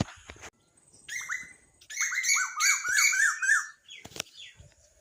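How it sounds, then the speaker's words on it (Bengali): An Asian koel calls near a hillside plot with guava trees and a maize field, giving a quick run of bright, repeated whistling notes at moderate distance, with quiet gaps before and after. "আর কোকিল ডাকছে খুব"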